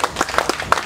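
A brief burst of close, crisp hand clapping from a small crowd honouring an award at a reunion gathering, several overlapping claps within under a second.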